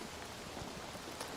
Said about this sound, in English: I can hear the rain even better now